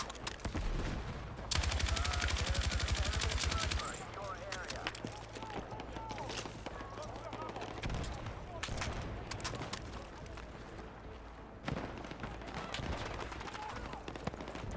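Gunfire rattles through a Battlefield 6 Breakthrough defense match: bursts of rapid automatic fire, scattered single shots and distant battle noise. Someone talks over it throughout.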